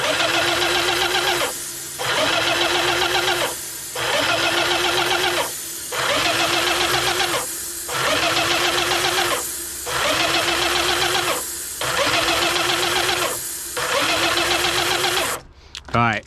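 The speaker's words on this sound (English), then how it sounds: "I'll sit here and kind of recirculate this mineral spirit through the pump and through the tube." A Graco Magnum ProX19 airless paint sprayer pump recirculates mineral spirits through its pump and hose, chugging loudly in about eight regular bursts of roughly a second and a half, each separated by a short pause, close to the microphone.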